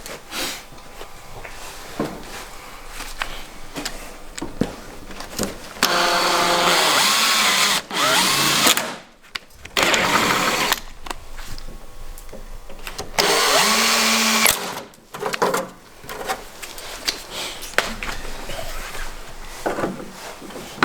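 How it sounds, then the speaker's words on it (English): During a Nissan Skyline GTT build, a power drill whines loudly in several bursts of a few seconds each, with pauses and quieter workshop noise in between. "Gib mir mal einen Bohrer."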